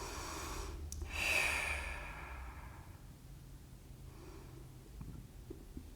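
One slow, audible exhale during a yoga Sphinx pose, a soft breathy rush close to the listener, then quiet with faint room noise.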